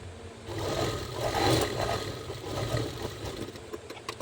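A sewing machine stitches the fitting seams of a lined blouse, running as a continuous low motor whir that swells slightly midway and then steadies, with no talking.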